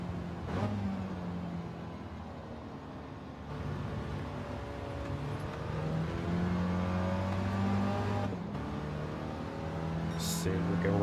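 A Mini Cooper engine in Gran Turismo 7 drones at steady low revs as it bogs down, its harmonics holding and wavering with no voice over it, then rising toward the end.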